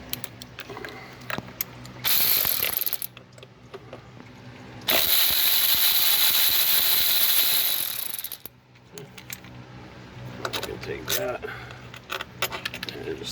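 Metallic ratcheting and clinking while a bracket is unbolted near the throttle body of a 2006 Toyota RAV4 V6 engine, with loud hissy bursts in the middle and scattered mechanical clicks afterward.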